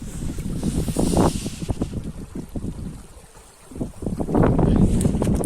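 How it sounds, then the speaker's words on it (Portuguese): Water laps and splashes against the hull of a sailboat under way with a single sailor aboard, gusts of wind buffeting the microphone, close, uneven sloshing that dips briefly before swelling again. "E o som da água também, olha só."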